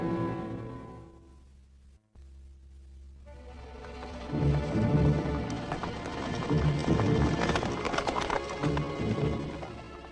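Several horses ridden out at a gallop to a campsite at Antelope Pass, hooves drumming faintly at first and then swelling loud and close, with clip-clop beats and an occasional whinny.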